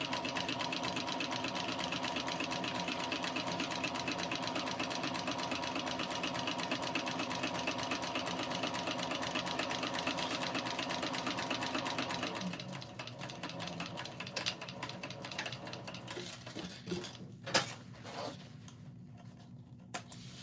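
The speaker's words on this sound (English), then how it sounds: "we're gonna do 3/8 inch seam allowance back stitch at the start and the stop." A sewing machine stitches a 3/8 inch seam on a tote, running steadily and close for about twelve seconds, then slowing into short stop-and-start bursts with light clicks as it back stitches at the seam's end.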